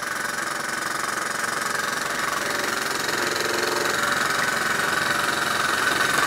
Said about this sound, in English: She's actually moving around under her own steam.